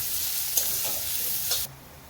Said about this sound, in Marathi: कांदा परतून घ्यायचा लालसर कांदा लवकर हे तळण्यासाठी भाजण्यासाठी त्यामध्ये थोडेसे मीठ घालायचे